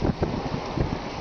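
Strong, steady trade wind of about 25 knots gusting near 30 buffets a sailboat at sea, a continuous broadband roar of wind with brief louder gust pulses.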